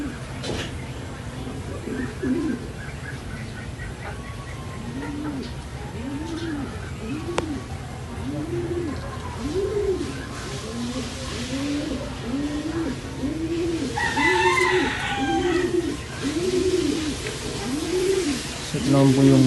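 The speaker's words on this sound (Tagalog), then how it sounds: "Napakagandang ibon." Soft, repeated dove coos in a steady rhythm, close by, with fainter chirps from other birds in the background.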